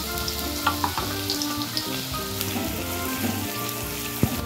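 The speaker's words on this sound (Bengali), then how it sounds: "এরপর আমরা কড়াইয়ের মধ্যে সাদা তেল নেব। এর মধ্যে আমরা পেঁয়াজ ভালো করে লাল করে আমরা ভেজে নেব।" Onions fry in white oil in a wok for a masala chicken fry, a loud continuous sizzle and crackle close by, with scattered pops and stirring scrapes throughout.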